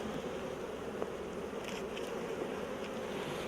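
Honey bees buzz in a dense, continuous drone close by during a beehive inspection, steady and without talk.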